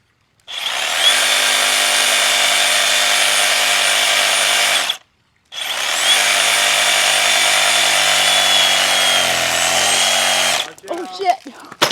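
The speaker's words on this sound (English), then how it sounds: "I got my handy sawzall. I'm gonna cut down low here." A handheld reciprocating saw cuts low through the trunk of a tall Alluaudia, a loud, close buzzing roar in two long bursts separated by a brief pause, then trailing off into creaks and rustling as the cut finishes.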